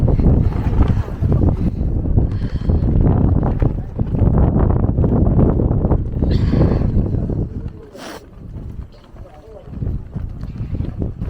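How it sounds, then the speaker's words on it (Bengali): Strong wind at a lakeside camp in Ladakh roars and buffets the microphone in loud, rumbling gusts that ease briefly near the end, with voices heard in places. "দেখো কি প্রচণ্ড হাওয়া এখানে।"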